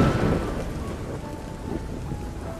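Steady rain falls in an animated fairy-tale scene, a soft continuous hiss that is a little heavier at the start, with faint sustained tones underneath.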